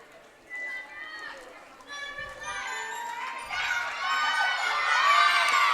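Teammates at a youth gymnastics meet cheer a gymnast on during her floor routine, with high-pitched shouts swelling from quiet to loud, sustained cheering near the end.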